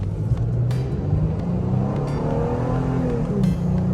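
A Toyota Revo Rocco SR5 pickup with a 4000cc engine revs and accelerates hard from a standstill, a loud close-up engine rumble with a rising tone that holds for the whole stretch.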